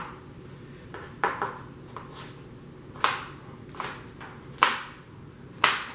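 A knife chops onions, peppers and jalapenos into small pieces on a board, giving scattered sharp taps at an uneven pace over a quiet background.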